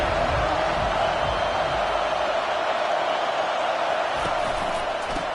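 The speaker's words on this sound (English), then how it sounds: "This crowd bringing the energy and noise early." A stadium crowd in a college football video game roars steadily and loudly throughout, a dense unbroken wash of noise with no pauses.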